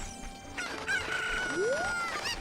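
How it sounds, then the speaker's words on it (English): A chicken in Zelda: Ocarina of Time crows with a rising, drawn-out squawk over a short cluck, clear and close, set against faint game ambience. "Hello, chicken. I need you."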